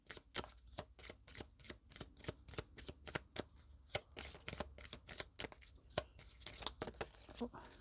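Guidance cards are shuffled rapidly for a love reading, giving a steady run of crisp riffling snaps and flutters, close and fairly loud, with no talking.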